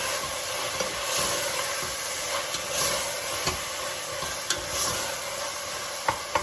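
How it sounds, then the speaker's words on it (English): Minced meat stirred in a pan for green beans with minced meat, a steady sizzle with repeated scraping and clinking of the utensil, close and fairly loud, no voices. "Let's mix it around."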